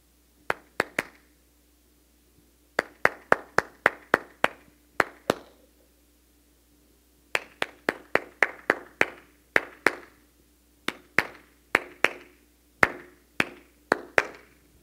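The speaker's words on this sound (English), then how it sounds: "I'm gonna do a little clapping activity for you right now" A single person claps out a song's rhythm by hand, in short phrases of sharp, close claps separated by brief pauses, with an irregular melodic pattern and no talking.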